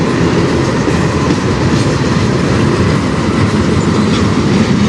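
A CN freight train passes close by on the Strathroy Subdivision, with a loud, continuous rumble and a steady clickety-clack of wheels over the rails. No voices are heard.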